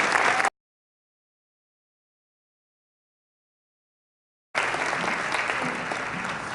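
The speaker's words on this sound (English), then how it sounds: "Let's welcome Miguel Del Valle with a very strong round of applause." Applause from a conference audience at the IASHE 31st Annual Conference, welcoming a speaker to the stage; steady dense clapping fills the opening half second, cuts to silence for four seconds, then resumes loud and even to the end.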